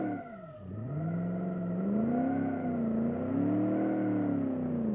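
A Crown Vic V8 car engine revs up from idle, its pitch climbing and swelling through repeated throttle blips, loud and close with no talk over it.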